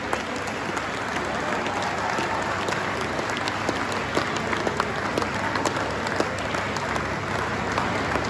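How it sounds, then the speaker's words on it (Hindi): An audience at a World Bee Day beekeeping celebration in Ramnagar, Kurukshetra, Haryana, applauds. The clapping is dense and sustained and holds steady throughout. "जोरदार तालियों के"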